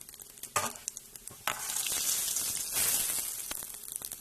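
Mustard seeds, chana dal and cumin sizzle and crackle in hot oil in a pan, a steady frying hiss punctuated by sharp pops and a few stirring clatters, close and fairly loud.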